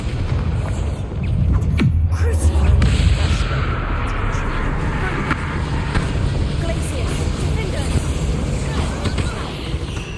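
A Bombarda spell explosion in the Hogwarts Legacy video game, a deep booming blast followed by sustained rumbling and debris-like crackle that stays loud throughout.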